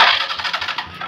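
An old motorcycle that has not been run for a long time and has a newly fixed starter gives a short burst of starting, a quick, pulsing engine chatter that is fairly close and loud.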